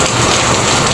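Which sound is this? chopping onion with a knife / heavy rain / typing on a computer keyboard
heavy rain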